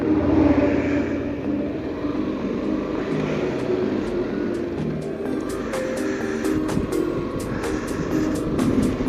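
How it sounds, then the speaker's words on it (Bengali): On the road from Rangpur to Saidpur, another vehicle draws up from behind, its engine drone rising over the steady rumble of travel, with sharp ticking clicks appearing toward the end. "পেছনে আরেকটি গাড়ি আসতেছে।"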